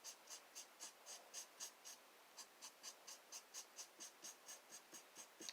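A black marker draws on book pages in quick rhythmic strokes, a steady run of short squeaks and scratches close up with a brief pause partway, no talking.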